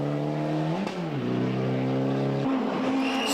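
Peugeot 306 Maxi kit car competing in the 1997 Ypres Westhoek Rally in Belgium, its engine screaming loudly as it passes close by, with pitch dropping and climbing again through gear changes.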